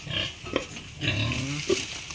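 A gilt pig grunting up close in a pen, several short rough grunts and snorts in irregular bursts.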